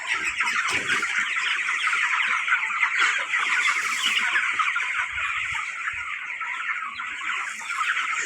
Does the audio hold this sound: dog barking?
no